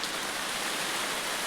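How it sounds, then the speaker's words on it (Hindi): Steady rain pours down outdoors, a dense, even hiss that holds at constant loudness throughout with no voices. "ऊपर से बारिश भी आ रही है, मैं भीग गई हूँ।"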